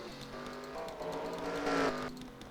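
Race cars on track at the 24 Hours of Sonoma, a car engine droning and rising in pitch as it passes, moderately close, with no talk over it.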